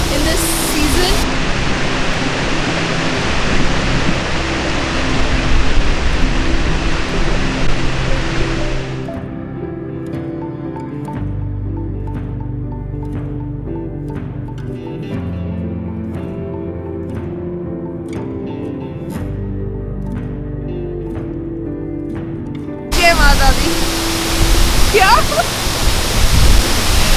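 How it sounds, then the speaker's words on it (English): Rupi Raila waterfall in the Sainj Valley of the Himalaya, a loud steady rush of falling water that fills the opening stretch, drops away in the middle and returns strongly near the end. "we are at the waterfall."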